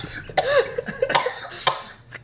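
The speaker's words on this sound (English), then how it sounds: "I just got lightheaded coughing" Several harsh coughs in quick succession, loud and close, with short gasps between them.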